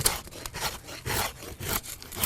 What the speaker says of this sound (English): Clamp it in a vise and you can just shave off very quickly after you split a handle out.